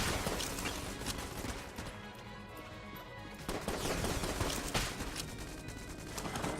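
Rapid gunfire from a gun in the video game Enter The Gungeon, dense bursts of shots running almost continuously over game background sound, loud and close.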